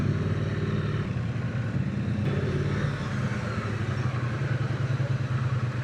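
A Triumph Speed Twin 900 motorcycle engine idles steadily and smoothly close by, a continuous low rumble with no voices.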